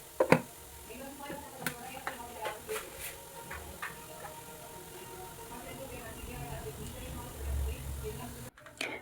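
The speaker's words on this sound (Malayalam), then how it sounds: "കടുക് പൊട്ടി തുടങ്ങിയിട്ടുണ്ട്" Mustard seeds splutter in hot coconut oil with fenugreek while a Kerala-style fish curry is being made: scattered sharp pops and crackles, fairly faint and irregular, over a low background hiss.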